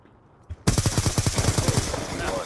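A light machine gun fires in a video game, a rapid burst of loud, evenly spaced shots that starts abruptly and keeps going, with a voice briefly audible beneath.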